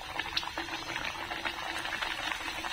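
Rolled pumpkin gharge dough sizzling in hot oil: a dense, steady crackle and bubbling hiss with fine popping throughout, close and fairly soft, with no voices.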